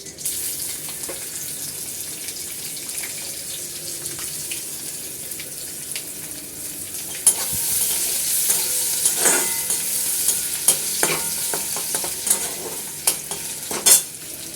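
Chopped ginger and garlic fry with curry leaves in hot oil, a soft continuous sizzle under scraping and stirring with occasional louder clatters of utensil strokes in the pan.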